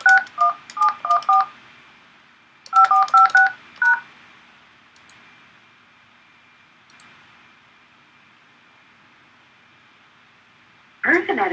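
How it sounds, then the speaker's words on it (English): DTMF keypad tones of a telephone number being dialed, played out in two quick bursts of beeps with a couple of stray tones after, over a faint hiss, then a louder burst at the end. "I'll dial remotely so everyone can hear."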